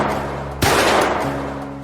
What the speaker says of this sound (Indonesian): Saat itulah ia melepaskan 2 tembakan.